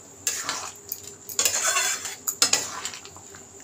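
A spoon stirs potato curry in a pot, giving a few scraping clinks against the metal over soft bubbling, close and moderately loud, with no talking.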